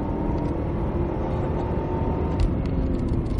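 Cadillac CTS-V on the Circuit of The Americas, a steady loud in-cabin engine drone and road rumble under hard acceleration, continuous and close.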